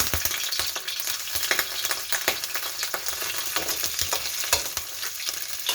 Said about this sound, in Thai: เช่นเคยนะคะเมนูกุ้งปลาเล็กจะทอดหัวกุ้งก่อนนะคะ